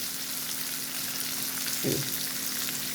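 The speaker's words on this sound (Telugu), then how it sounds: "ఈ శనగలు ఇందులో వేసేయాలి. వేసి కొంచెం కలుపుకోవాలి." Chickpeas tipped into a hot pan and stirred for a prasadam dish, a steady close sizzle of frying with a brief louder stir or scrape near the middle.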